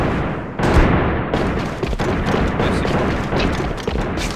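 Gunfire from a wallbang through a wall in the AVA shooter game: a dense cluster of loud, sharp shots with booming impacts, close and continuous over a few seconds, no talk.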